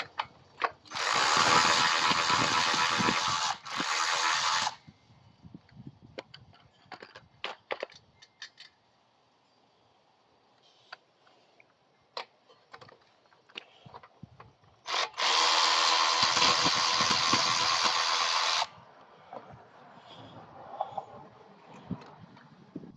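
An impact wrench removes parts from the rear axle of a Coleman BT200X during a bearing replacement, with two loud sustained bursts of rapid hammering rattle. Quieter clicks and tool handling fill the gap between them.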